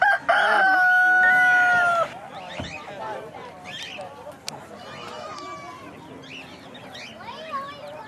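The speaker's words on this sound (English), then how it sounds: "A lot of chickens out here." A rooster crows loudly close by at an outdoor family farm swap, followed by chickens clucking among a busy crowd, with people talking in the background.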